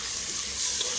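Three large tomatoes fry in a pan for butt salan, giving a soft, steady sizzle with faint stirring, quiet and close, with no talking.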